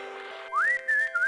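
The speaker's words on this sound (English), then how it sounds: "Let me just whistle" A single rising whistle sounds inside the Discworld adventure game to call a parrot, clear and close, preceded by a humming background tone and followed by two shorter sustained whistle notes.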